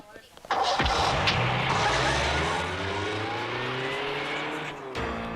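A car drives steadily in a Hindi comedy film scene, its engine humming continuously at moderate loudness after a brief start, with the sound dipping near the end before picking up again.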